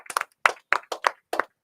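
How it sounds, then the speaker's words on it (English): Audience at a live show clapping for the co-host: a thin, scattered applause of a few sharp claps in small uneven bursts, close and loud, with no voices. "Mr. Mayor, you can clap a little harder than that."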